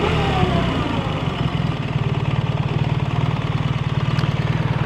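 A BMW R1300RT motorcycle engine runs steadily at idle close by, with a low, even, throbbing pulse that sounds somewhat tractor-like and stays loud and constant throughout.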